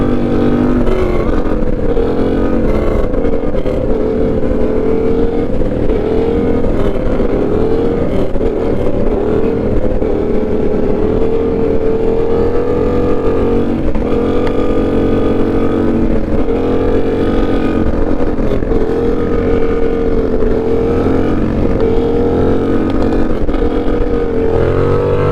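Loud Grom motorcycle engine held at high revs through a wheelie, a continuous buzzing, slightly wavering roar with wind rush, steady and close for the whole stretch.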